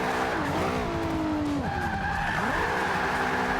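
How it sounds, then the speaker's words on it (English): An Infiniti Q50 in the Forza Motorsport 5 racing game does an all-wheel drive burnout, its tires squealing loud and continuous over a revving engine whose pitch slides and wavers. "I'm going to do some all-wheel drive burnouts."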